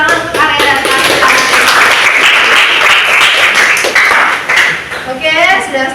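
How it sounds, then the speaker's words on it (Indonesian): Classroom of students applauding two classmates after a presentation, loud close clapping rising and fading, with voices chattering over it. "Oke, tepuk tangan untuk Arya dan Tasya."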